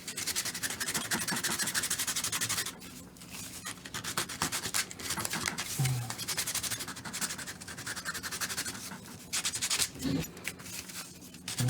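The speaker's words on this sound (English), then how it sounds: "Just gotta sand this extra piece I just found." Steady, close rubbing of sandpaper on a small wooden piece for a Baby Yoda puppet, continuing in a brisk back-and-forth rhythm with short pauses and a few light knocks.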